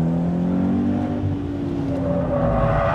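A Toyota 86 engine revs up loudly and steadily as the throttle opens during a drift, with a strong, continuous drone that climbs slightly in pitch, heard close and alone.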